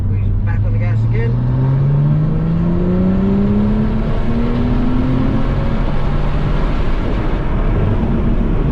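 BMW M2 engine pulling hard on the Florida International Rally & Motorsport Park circuit, a loud, steady rising drone as the car accelerates, with a driver coaching over the engine noise.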